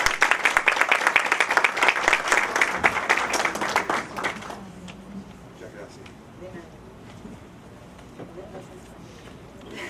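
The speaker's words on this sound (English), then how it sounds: "With a great applause, let's receive Dr. Bernard Fialkoff." Loud audience applause greets a speaker at a scientific talk, a dense clapping burst for roughly four and a half seconds that cuts off abruptly, followed by quiet room noise with faint shuffling and low voices.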